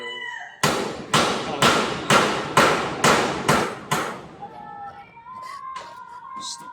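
Eight sharp hammer blows land in an even, steady rhythm close by, then stop, leaving faint voices and a rooster crowing in the background.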